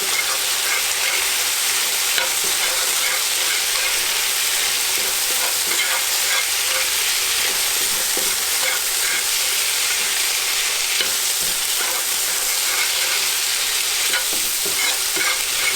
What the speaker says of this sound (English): Now we're going to add our ginger and our garlic. Give that a good stir.